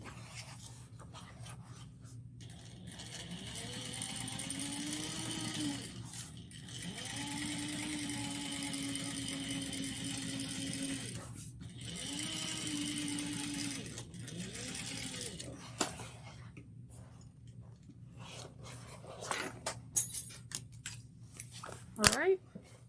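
A sewing machine stitches a seam on a sling bag in loud, close bursts of whirring stitching separated by short pauses, with some rustling handling of fabric at the end.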